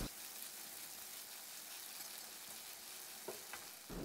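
Wide rice noodles with chicken sizzle steadily in a hot wok, a continuous hiss with occasional scraping clanks from a stirring utensil.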